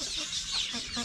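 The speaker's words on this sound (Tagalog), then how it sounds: "Yan po yung ating mga Jersey Giant na manok, oh." Jersey Giant chickens on a small farm cluck faintly behind a steady, hissing background noise.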